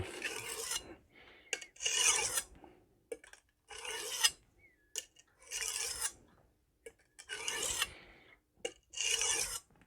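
An 8-inch Magnacut chef's knife drawn across Norton Crystolon coarse and fine stones, a gritty rasping stroke repeated in regular bursts with short pauses between, close and fairly loud.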